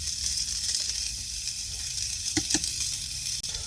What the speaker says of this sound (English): I love to cook on cast iron